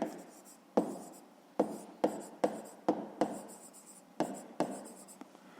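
Pen or pencil writing numbers by hand on paper during a fifth-grade math exercise, heard as close, quiet scratchy strokes arriving in short bursts with brief pauses between them, alone without talk.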